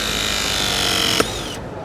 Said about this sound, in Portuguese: Eu vou realizar a compressão nos dois para a gente ver a facilidade do sistema em relação à solda.